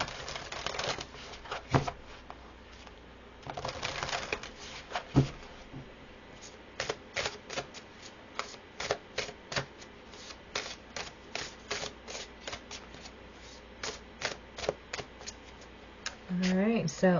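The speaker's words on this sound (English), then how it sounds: "So then I'll pull 5 cards from this deck." A deck of oracle cards is shuffled and cards are pulled one by one, giving repeated crisp flicks and snaps in irregular bursts, close and fairly faint, with quiet background noise between.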